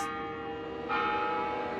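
Kremlin clock chimes in Moscow ring out as a sustained, resonant bell tone with long overlapping overtones, swelling slightly louder partway through and sounding alone without any voices.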